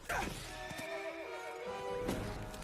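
A horse in the animated movie Tangled gives a loud, drawn-out whinny over clip-clopping hooves, with a second short neigh near the end.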